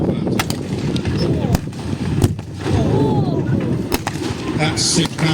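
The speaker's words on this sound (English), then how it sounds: "That's 6 pounder gunfire." Sharp, loud reports from a 6-pounder tank gun firing common shell at a tank display event, several cracks spaced a second or so apart over engine noise and crowd sound.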